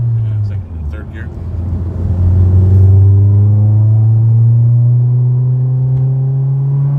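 A 2001 Honda S2000 pulls hard through second and third gear on a straightaway, its engine note climbing steadily in pitch with a loud, close, sustained rising drone from inside the car.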